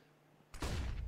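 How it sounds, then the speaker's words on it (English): A sudden sustained burst of SMG fire in a professional Counter-Strike match on the Inferno map, loud and dense after a brief near-silent pause. "64 bullets of doom fired from that SMG"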